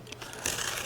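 A quick cut through the side of a handmade Junkanoo hat, a soft scraping start followed by a louder, rough crunching burst of about half a second, close and alone.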